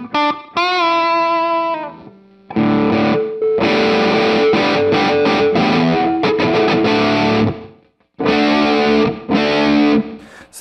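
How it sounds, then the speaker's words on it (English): An electric guitar played through a distortion preamp from a multi-effects setup, loud and saturated, with a clean arpeggio opening before heavy distorted chords and riffs that break off into brief silences. "So there's your distortion."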